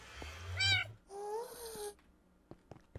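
A few high, synthetic-sounding Minecraft cat meows, followed by soft clicks and taps, fairly quiet and close.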